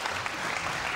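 Brief burst of audience applause at a Lithuanian theatre-company event, steady dense clapping throughout the moment with no voices on top.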